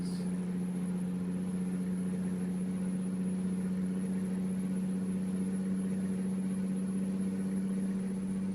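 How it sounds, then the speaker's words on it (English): A truck engine in the American Truck Simulator video game hums at a steady low idle or cruise, a constant drone that holds alone for the whole stretch with no voices. "the sound of the engine, too, is not bad at all"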